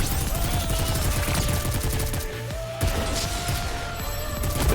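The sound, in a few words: gunfire in the video game NIKKE Goddess of Victory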